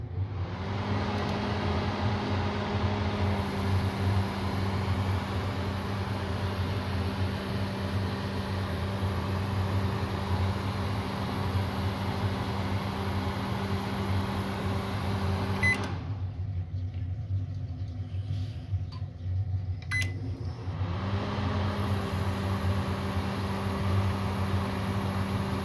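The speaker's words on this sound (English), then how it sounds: "This is how the normal microwave magnetron sounds like." A Panasonic microwave oven's magnetron runs normally with a steady electrical hum and low drone, cutting out briefly for a few seconds before resuming at the same level.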